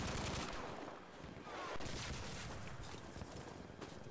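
Rapid gunfire crackles in a first-person shooter game, quiet and somewhat distant, a dense run of overlapping shots and bursts with brief dips, continuing throughout.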